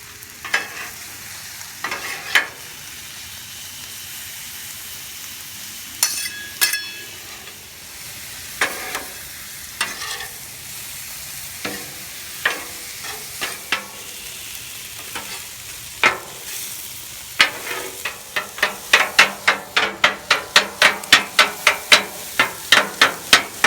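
Metal spatula scraping and clanking on a Blackstone griddle as mushrooms and shrimp are stir-fried, with scattered taps that speed into a rapid, loud run of clacks near the end over a steady sizzle.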